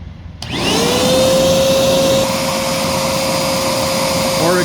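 A Singer Lazer Storm AS 01A vacuum cleaner starts up after a brief quiet moment, then runs with a loud, steady whine and airflow roar close by.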